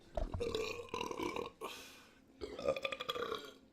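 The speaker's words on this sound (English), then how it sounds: "So can we rate our burps?" Deep, drawn-out burps after chugging beer, several in a row close to the microphone, with brief talk and laughter between them.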